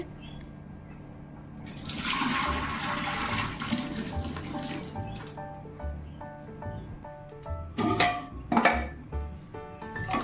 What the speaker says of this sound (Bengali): চাল নিয়ে নিয়েছি তো এই যে ধুয়ে নিচ্ছি হাঁড়িতে দিয়ে দেবো